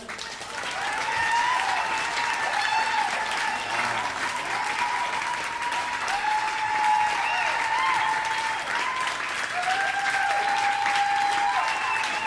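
A concert audience claps in steady, dense applause that carries on at an even level throughout, with a few cheers rising faintly above it.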